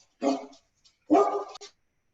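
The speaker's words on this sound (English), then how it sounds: "I feel like all of our calls involve dogs barking." A dog gives two close, loud barks about a second apart, with silence around them.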